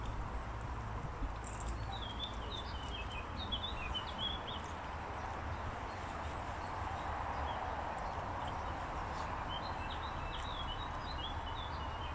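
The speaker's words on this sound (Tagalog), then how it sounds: "Ayan, may huni pa ng ibon, di ba?" Faint birdsong chirps outdoors in Norway, coming in short scattered bursts early on and again near the end over a low, steady background hum, distant and quiet.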